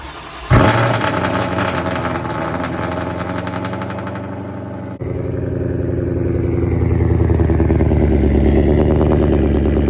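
Supercharged 2018 Ford Mustang GT with a VMP blower cold-starting: a sharp crank and catch, a loud high idle, a brief cut, then the engine settling and rising again as it pulls away, with no voices.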